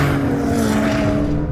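Porsche 911 Turbo S and McLaren 720S launching off the line in a drag race, a loud, steady engine roar with a sustained tonal drone, close and unbroken.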